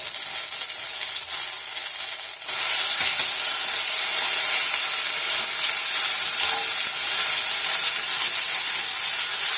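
A paste of ground nigella, cumin and mustard seeds sizzles in a hot pan on lowered gas, with steady close-up frying hiss that jumps louder a couple of seconds in as the paste hits the oil, then holds continuously.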